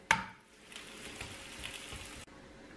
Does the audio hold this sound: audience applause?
no